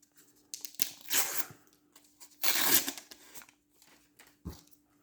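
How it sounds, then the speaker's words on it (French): A sticker pack is torn open by hand, with several sharp, close ripping and crinkling bursts of paper wrapper separated by short quiet gaps. "On va commencer pour l'ouvrir le deuxième paquet."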